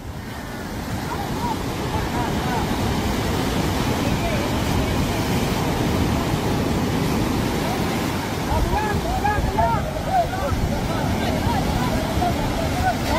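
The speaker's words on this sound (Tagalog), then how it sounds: "malaki ang alon." Big sea waves surge and wash around a small boat at sea, a loud, continuous roar of churning water mixed with wind buffeting the microphone, with faint voices under it.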